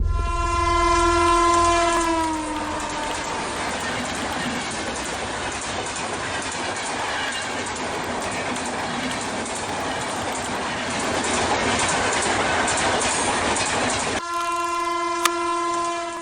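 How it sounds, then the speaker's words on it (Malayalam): A train horn blares at the start, then a fast train roars past with rumbling, clattering wheels, and a second horn sounds near the end. "അതിവേഗം വരുന്ന ട്രെയിൻ അവളുടെ മുകളിലൂടെ കടന്നുപോകുന്നു"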